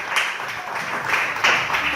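A church congregation applauding during a sermon, a steady wash of clapping from many hands that swells and dips for two seconds.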